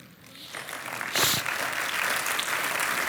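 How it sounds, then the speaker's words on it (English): Audience applause in a lecture hall swells from light scattered clapping into a steady, fairly loud wash of many hands that holds to the end. "Don't clap for that"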